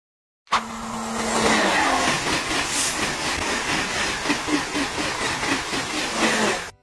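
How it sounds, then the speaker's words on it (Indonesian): A French TGV high-speed train rushes past, a loud sustained roar with rhythmic clatter that begins abruptly and holds for several seconds with no voices. "TGV adalah kereta berkecepatan tinggi yang beroperasi di Prancis."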